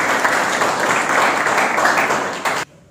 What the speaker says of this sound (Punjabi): ਬਹੁਤ ਤਾੜੀਆਂ ਮਾਰ ਰਹੀ ਇਹਦੇ ਲਈ।